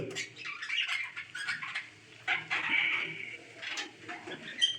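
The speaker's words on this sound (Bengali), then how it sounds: "এইখানে আছে 3টে বদ্রি পাখি।" Three caged budgerigars chirp and chatter in quick, overlapping bursts, fairly close and moderately loud.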